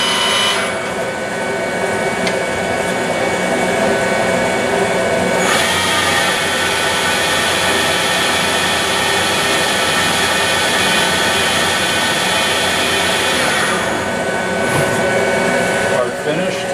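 Steady, loud whirring hum of a Sunnen SV-1015-S1 precision vertical honing machine with servo rotary table running at 460 volts, continuous throughout with a slight shift in tone partway, someone talking over it.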